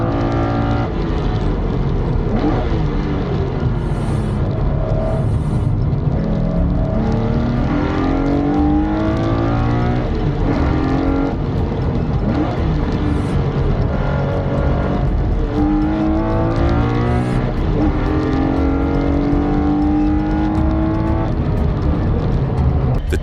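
Porsche 911 and V8 race cars roaring around a track during a Speedfest race, loud continuous engine drone with rising and falling revs as cars pass and shift.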